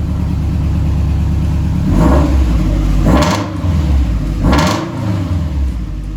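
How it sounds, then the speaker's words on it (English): A 2005 Subaru STI with a big turbo is revved close by, a droning idle rising into three throaty swells, then settling back between them, with no talk. "Here, I'll rev it for you."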